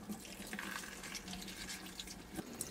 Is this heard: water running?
yes